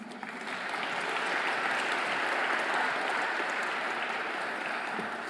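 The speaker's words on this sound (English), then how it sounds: "I would like to invite you to give another round of applause to them" Sustained applause from a conference audience at a plenary session on international collaboration, swelling quickly and holding steady as a dense, even wash of many hands with no talking over it.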